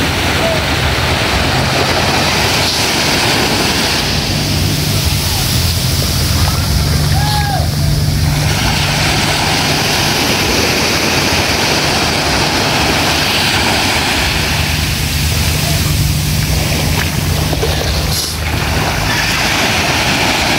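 A motorboat engine drones loudly and without a break, a coarse roar that fills the scene while people talk over it.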